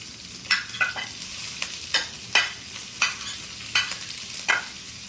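Onions and peppers hitting hot oil in a pan, crackling sizzle with repeated spatula scrapes and stirs every half second or so, close and fairly loud, no voices.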